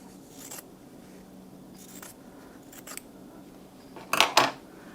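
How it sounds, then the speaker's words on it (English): Scissors cut through quilting fabric squares for a star log cabin block: a few quiet snips spread across the stretch, ending in two sharper, louder cuts close by. "I'm going to cut this down the middle."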